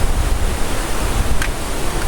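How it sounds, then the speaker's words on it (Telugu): Rainwater running and trickling near a bridge after recent rain, heard as a steady, broadband rushing wash of water that stays fairly loud and even throughout, with no talking. "ఇక్కడైతే వాటర్ కారుతున్నాయి చూస్తున్నారు కదా."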